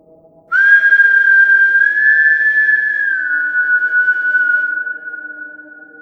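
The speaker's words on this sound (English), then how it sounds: "Whistling." A single sustained whistle holds a steady high pitch with slight wavering, clear and loud, fading out toward the end.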